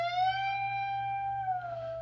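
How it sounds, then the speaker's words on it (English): A single sustained electric guitar note bent up a step and a half, held steady, then released back down, clean and fairly quiet with no talking. "step and a half bend"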